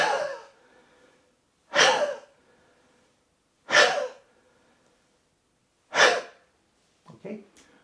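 Four deep, forceful exhalations from a lion's roar breathing exercise during a mindful fitness session, spaced about two seconds apart and each trailing off, then a shorter, fainter breath at the end.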